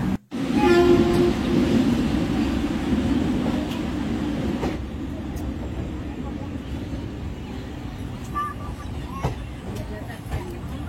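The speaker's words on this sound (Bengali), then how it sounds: "যেহেতু ট্রেনটি হাওড়া থেকে ছাড়লো, তাই ট্রেনের গতিবেগ কম।" A train pulls slowly out of Howrah station, a loud continuous rumble of wheels and carriages with a brief horn blast near the start, steady and close throughout.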